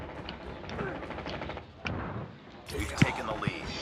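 Gunfire from a sniper in a video game comes as a few sharp shots amid scattered battle noise, under someone talking in French.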